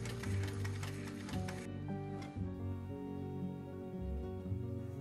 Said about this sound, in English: I'm going to sew in this fold here with a simple straight stitch